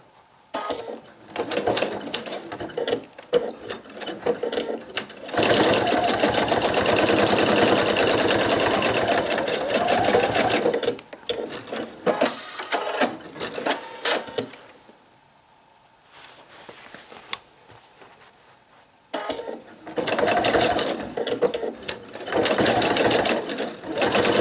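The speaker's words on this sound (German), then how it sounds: "Um die Wendeöffnung zu schließen, nähe ich jetzt hier knappkantig die Naht zusammen" Sewing machine stitching close to the edge to close the turning opening of a men's fabric wallet with jeans thread, running in several loud, rapid bursts separated by quiet pauses.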